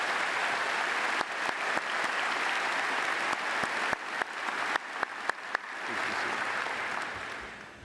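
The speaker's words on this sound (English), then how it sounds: "Let's have a round of applause for these university leaders." Large commencement crowd at Auburn University applauding the university leaders, a broad, sustained roar of clapping punctuated by a few sharp near claps, dipping briefly and then swelling again.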